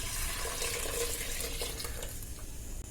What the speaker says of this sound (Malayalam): ആ 3 കപ്പ് തേങ്ങാപ്പാൽ ഇതിലേക്ക് ഒഴിക്കണം.